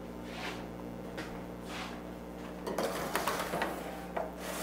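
Cookie sheets of chocolate crinkle cookies slide into a warm 300-degree oven, with soft metallic clanks and scraping rattles near the end after a quieter start, close by and without talk.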